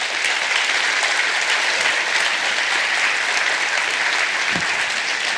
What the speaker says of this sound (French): Merci de les applaudir d'abord tous les deux.